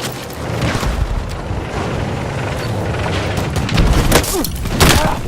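Gunfire in the multiplayer shooter Battlefield 6, a dense rumbling barrage of shots and booms, loud and continuous with sharper bursts near the end, as a voice talks briefly.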